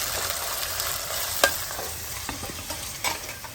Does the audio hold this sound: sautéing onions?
yes